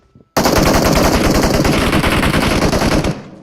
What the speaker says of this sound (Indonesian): Ada yang jauh nembak gue lo.